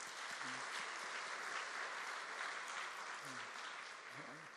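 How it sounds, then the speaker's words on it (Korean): A congregation applauds student volunteers during a school chapel service, a broad, even roar of clapping sustained throughout, heard somewhat distantly with faint voices beneath. "박수 한번 좀 격려합시다."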